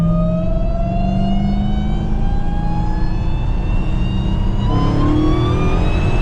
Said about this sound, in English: Listen to that supercharger whine.